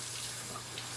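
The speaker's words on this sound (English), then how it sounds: "I'm going to use cool water here at the sink" Cool tap water runs steadily at a sink, rinsing food in a strainer, a continuous close hiss and splash with no talk.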